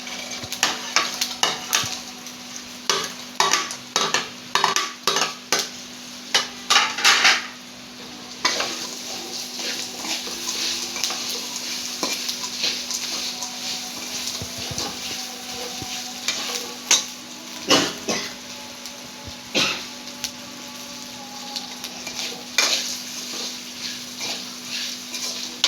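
Fried okra being stirred in a pan of oil, with loud clattering and scraping of a spoon against metal over a continuous soft sizzle, the stirring strokes coming in irregular bursts.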